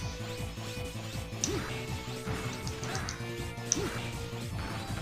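In the video game Mega Man Zero 3, a recoil rod weapon strikes enemies in quick, repeated smashing thwacks over a steady, tonal game soundtrack, all at a moderate level.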